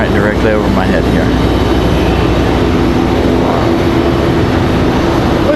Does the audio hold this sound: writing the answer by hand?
no